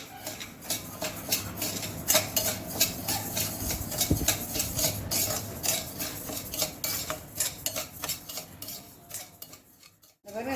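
Metal scrapes and clinks against a heavy oil pan in a steady rhythm of stirring, with dry store-bought rice grains rustling as they are roasted and tossed, no voices.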